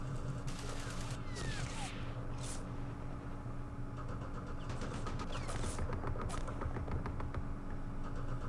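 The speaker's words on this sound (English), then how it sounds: "Lots of machine guns firing" Machine guns firing in a woodland battle in the wargame Campaign Series Middle East, a faint, distant rattle of repeated bursts over a steady low rumble.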